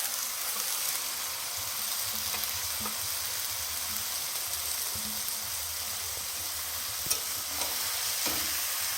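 Spices and chopped vegetables stir-frying in a pan in a village kitchen, a steady broad sizzle with soft scraping stirs and a couple of sharper clinks near the end, continuous and close.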